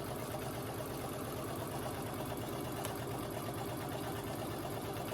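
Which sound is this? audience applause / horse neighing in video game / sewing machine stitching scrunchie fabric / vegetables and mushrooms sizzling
sewing machine stitching scrunchie fabric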